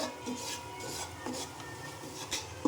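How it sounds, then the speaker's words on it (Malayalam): A spatula stirs half a teaspoon of black pepper powder into beef biriyani masala in a pan, giving soft scraping and rubbing with scattered light clinks against the metal. It is moderately quiet and steady, with no talk. "ഒരു അര ടീസ്പൂൺ കുരുമുളക് പൊടി ഇതിട്ട് നന്നായിട്ടൊന്ന് മിക്സ് ചെയ്യാം"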